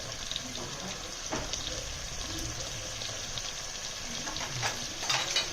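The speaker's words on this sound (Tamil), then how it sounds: "ஸோ இதுவும் நல்லா சாட்டே பண்ணி வேக விட்டுக்கலாம்." Tomatoes and onions sauté for mushroom biryani, a steady moderate sizzle with occasional stirring clatter and scrapes in the pan.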